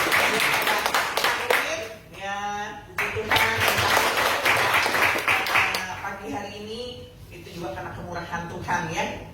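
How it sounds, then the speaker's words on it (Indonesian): A church congregation claps in dense, steady applause, with a person speaking over it and the clapping swelling again near the end. "Ya, kita kasih tepuk tangan."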